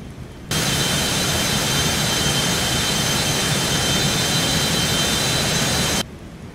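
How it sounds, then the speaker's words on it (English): A Cessna Citation X's jet engines roar in a steady, loud, broadband drone during the climb to cruise altitude in X-Plane 12. The roar starts and cuts off abruptly, with a constant whine on top and no voices. "And the plane is climbing to cruise altitude."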